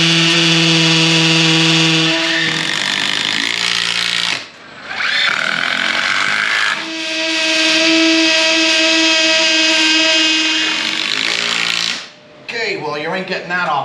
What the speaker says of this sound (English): Time to start drilling.